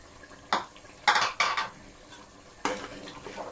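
A spoon clanks and scrapes against a pot while mutton curry with coriander is stirred, several sharp metallic knocks in short bursts separated by quiet pauses, close by with a faint sizzle underneath.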